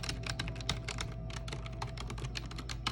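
Rapid, steady typing on an ordinary computer keyboard, a dense stream of crisp key clicks heard up close over a low background hum, with no talking.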